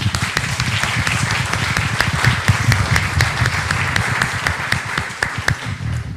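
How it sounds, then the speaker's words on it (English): A conference audience in Thessaloniki, Greece, claps steadily, with crisp, closely spaced hand claps forming a sustained, moderately loud round of applause that eases slightly toward the end. "I would give them a big applause."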